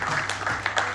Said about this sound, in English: Please a round of applause for her here.